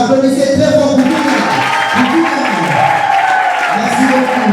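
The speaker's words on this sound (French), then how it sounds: "Applaudissez très fort pour vous" An audience at a Christian conference in Kinshasa claps and cheers loudly for several seconds, a dense crowd applause mixed with voices and talking.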